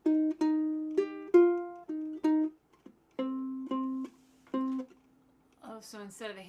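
Blues pattern on a ukulele with each note plucked twice, short repeated plucked tones in a halting rhythm with brief pauses, ending as a voice starts talking.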